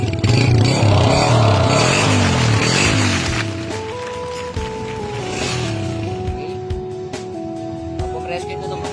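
A TMX125 Alpha motorcycle with a Yutaka exhaust pipe and contact-point ignition, loud close revving with rising and falling engine sweeps that settle into stepped idle tones, with people talking over it.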